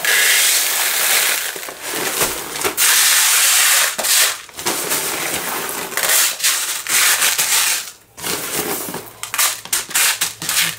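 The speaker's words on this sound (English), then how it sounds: "So I have some aquarium rocks or aquarium gravel, and I got this at Walmart." Aquarium gravel from Walmart pours out in a loud, continuous gritty rattle of small rocks, with short pauses between bursts, close up and with no voices.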